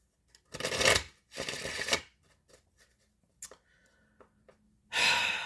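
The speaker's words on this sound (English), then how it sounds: "I'm shuffling" Cards are riffled and shuffled in several quick bursts, close up, with quiet pauses and soft breaths between them.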